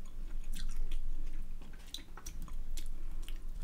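Crunchy chewing of fresh tomatoes, close up, with wet biting and squishing bursts in an uneven rhythm, alone with no talk.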